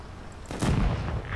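A tank cannon fires while on the move in a tank video game, a single heavy boom with a sharp crack and a rumbling tail over faint engine noise.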